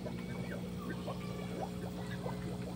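Aquarium air pump bubbling water in a tilapia tank, a steady close gurgle and trickle with a constant low hum running under it throughout, no voices.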